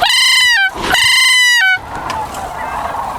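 A sandhill crane calling during a crane hunt: two loud, near, rattling trumpeted bugles in quick succession, then quieter outdoor background.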